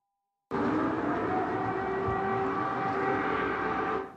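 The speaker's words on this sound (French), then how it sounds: "Les sirènes retentissent dans la capitale." Air raid sirens sound across Kyiv during a night attack, a sustained, steady wailing tone that starts abruptly and holds loud and even for several seconds before cutting off.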